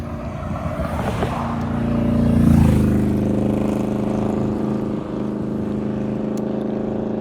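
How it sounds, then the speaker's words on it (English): Loud cars pass along a road outdoors at the end of the workday in a rural area, one engine swelling close by around the middle before fading into a steady traffic rumble. "Even out in the middle of nowhere, there's loud cars at the end of the workday"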